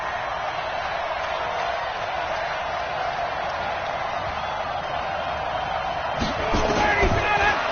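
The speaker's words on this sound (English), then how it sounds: "the crowd getting into it as we come up on a big 3rd down" A football stadium crowd roars continuously as the play builds toward a big third down, a dense, steady wash of cheering with a few thumps near the end.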